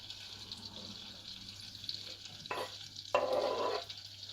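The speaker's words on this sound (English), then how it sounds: "Butter is melted. Now we add in the cauliflower." Cauliflower hitting melted butter in a pan, a short burst of sizzling and rustling stir noise that swells then fades, close and fairly quiet against a steady hum.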